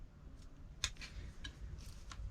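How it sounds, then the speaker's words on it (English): A few crisp snips of pruning shears cutting back a branch on a yew bonsai, quiet and close, with one sharper clip standing out among lighter ticks in a hushed room. "I'm actually going to cut this one back."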